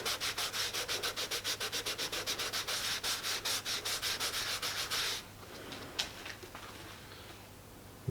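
A microfiber cloth rubs Meguiar's multi-purpose cleaner into a surface in fast, steady back-and-forth strokes, close and fairly loud, for about five seconds before it stops and leaves a few faint scuffs.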